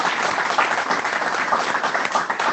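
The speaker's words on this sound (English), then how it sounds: "Let's give a round of applause to John" A brief round of audience clapping follows a community college talk by Dr. John Downey on public education in Virginia, steady and fairly close, with no speech over it.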